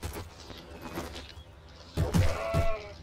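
Sheep bleating in the video game Arcania: Gothic 4, a couple of short wavering bleats near the end, moderately loud over a low ambient game background, with no speech.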